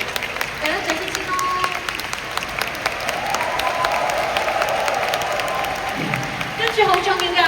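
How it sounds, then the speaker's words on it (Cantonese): Audience applause at a live Cantopop concert in a large venue, steady dense clapping with crowd noise sustained throughout, swelling slightly near the end, with a voice speaking over it. "大家掌聲先咯"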